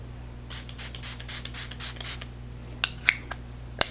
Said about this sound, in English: I'm gonna go ahead and spray my face with the Smashbox primer water.